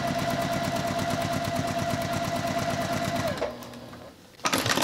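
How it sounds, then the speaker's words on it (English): A sewing machine stitches a quilt block seam in a fast, even mechanical rhythm, then stops abruptly; a brief burst of whirring follows near the end. "Take it over to the sewing machine."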